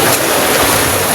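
Strong typhoon wind and sea spray roaring in a dense, constant rush of air and surf, loud and close to the microphone, with no voices.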